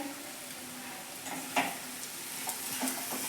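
Sweet potato bhaji for a fasting meal roasting in a pan over low gas, a soft continuous sizzle broken by a few light stirring scrapes and clinks, close and steady with no talk.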